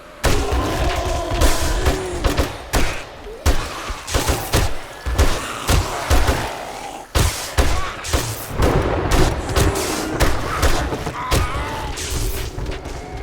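Heavy, repeated gunfire in 7 Days To Die during a night blood moon horde, loud rapid shots in clusters with thumping impacts, nearly continuous throughout, with occasional speech underneath.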